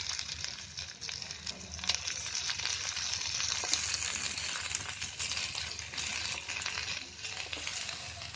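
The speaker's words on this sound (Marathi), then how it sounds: "तर त्याच्यामध्ये थोडंसं तेल टाकणार आहे. त्याच्यामध्ये लसूण टाकते, म्हणजे एकदम बारीक चिरून घेतले." Finely chopped garlic frying in oil in a kadai makes a steady, close sizzle with a light crackle that holds for the whole stretch, with no talking.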